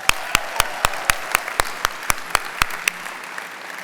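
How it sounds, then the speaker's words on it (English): Sparse, evenly spaced claps ring out at a convention opening ceremony, sounding like only a few hands. They are sharp and fairly close, then thin out and fade over a few seconds. "Let's give them one more round of applause."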